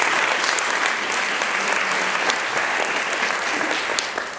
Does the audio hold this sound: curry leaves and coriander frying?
no